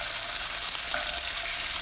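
Lamb sizzles in a hot pan after being turned, giving a dense, even, bright hiss that holds at the same level throughout, close up and with no speech.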